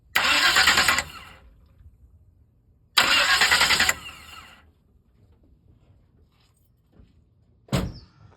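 New mini starter on a 1972 Chevrolet C10 cranking in two loud, one-second whirring bursts a couple of seconds apart, then silence and a final short burst, close by with no talk.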